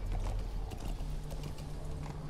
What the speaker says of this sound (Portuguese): Deixa eu descer do cavalo aqui